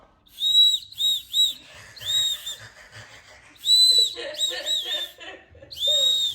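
A shrill squeaky whistle built into a shoe toots in short repeated bursts, some in quick triplets, with brief pauses between, loud and close.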